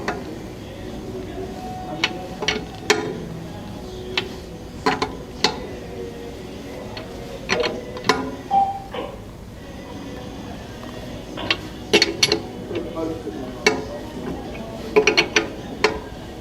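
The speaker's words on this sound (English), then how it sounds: "And then you're going to tighten your lug nuts with your tire tool." A tire tool tightens lug nuts on a 2013 Toyota Corolla with repeated metallic ratcheting clicks and clanks in irregular bursts, close and fairly loud against a quiet background.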